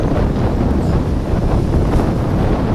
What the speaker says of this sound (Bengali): দেখছো কত বড় বড় ঢেউ দিচ্ছে